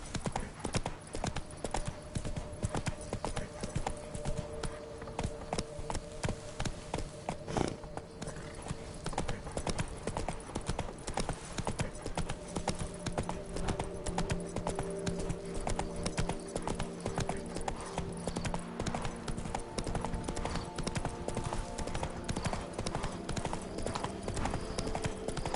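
Hooves of the horse Roach clip-clop steadily in The Witcher 3: Wild Hunt's Blood and Wine expansion, a continuous trotting rhythm close up over soft game ambience and music.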